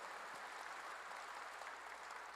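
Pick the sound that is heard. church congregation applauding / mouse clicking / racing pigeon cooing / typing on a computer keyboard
church congregation applauding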